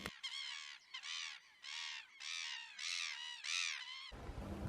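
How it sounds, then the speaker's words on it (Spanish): Speckled teal ducks on the Pampas plains calling in a series of about seven nasal, honking bursts in a steady rhythm, fairly faint and at a distance, with no talking. "Se los veía exhibirse elevando el pecho y bajando la cabeza a la vez que vocalizaban"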